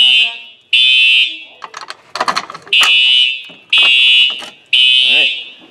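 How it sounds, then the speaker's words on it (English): A school fire drill alarm blares in loud, steady, high-pitched bursts, about four of them roughly a second apart, with a person talking in the gap between blasts. "this is the sound the fire drill makes."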